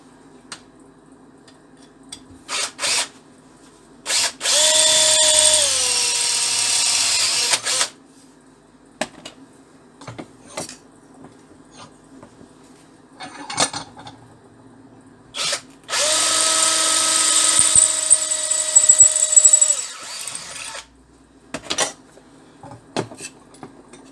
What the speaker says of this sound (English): Using a 3/16 drill.